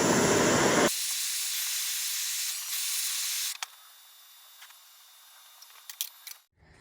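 A torch heating aluminum brazing onto a metal camper fender gives a steady loud hiss that cuts to a quieter, thinner hiss, then drops to near silence with a few faint clicks.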